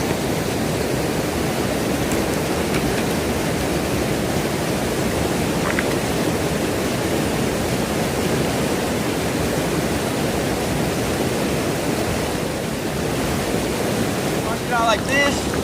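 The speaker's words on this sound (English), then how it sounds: "I just want you to hear the sound of the river" The South Yuba River flows past in a continuous, loud, broadband rush of water, steady and unbroken from start to finish.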